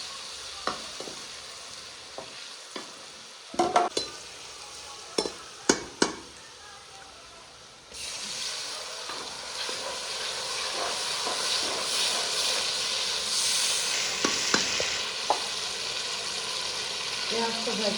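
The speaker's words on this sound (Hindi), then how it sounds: "अदरक लहसुन को मैं फ्राई कर लूँ" Ginger and garlic frying in a pan with onions that have browned, a steady sizzle rising after a few sharp stirring clinks and scrapes, continuing as an even close hiss.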